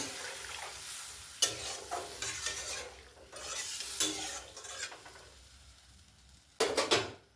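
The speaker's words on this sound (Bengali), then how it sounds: "মশলাটা ভালো করে কষে নিয়েছি, জল দিয়ে দিচ্ছি" Water poured onto fried masala in a pan for a village-style mango prawn curry, a hissing sizzle with rough spatula scraping and metal clinks, close and moderate, easing off before a final clatter of stirring.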